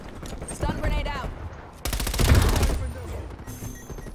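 Automatic gunfire in the Call of Duty Black Ops Cold War video game: rapid, loud bursts of rounds in quick rhythm, with a sustained spray in the middle, amid in-game voice chatter and effects.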